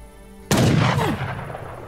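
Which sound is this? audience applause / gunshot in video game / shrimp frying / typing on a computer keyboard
gunshot in video game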